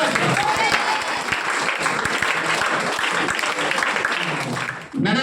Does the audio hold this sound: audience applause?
yes